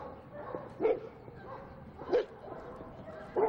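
A dog in a 1990s Moscow dog show ring gives three short, moderately loud barks spaced about a second apart, with quieter whimpering and faint background noise between them.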